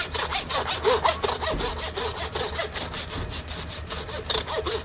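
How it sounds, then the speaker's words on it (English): A small home hand saw cuts through a beef rib bone in fast, rhythmic back-and-forth strokes, making a close, loud, gritty rasp with no talking. "So this is one of those little good home saws for sure."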